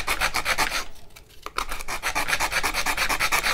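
Sandpaper rubbing back and forth on a wooden paint stick being shaped into a tear ruler, a steady rasping scrape in quick close strokes with a brief pause in the middle.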